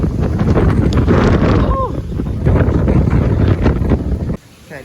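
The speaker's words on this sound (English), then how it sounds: "It's still very, very windy." Strong wind from Hurricane Ian buffets the microphone in loud, rough gusts for most of the stretch, then abruptly drops away near the end; a brief voice exclaims partway through.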